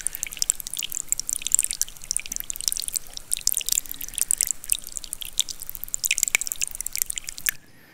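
Water inside glacier ice picked up by a microphone produces a dense, continuous crackle of fine drips, pops and fizzing ticks, steady and close, then cutting off abruptly at the end.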